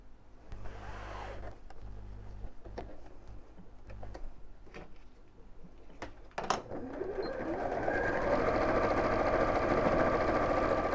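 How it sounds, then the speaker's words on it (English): A sewing machine stitches straight across the boxed corners of a fabric bag, first in short running bursts with stops, then a long steady run that grows louder and continuous near the end. "So we're just going to pull these open and sew straight across, and we'll do it on each one of these corners."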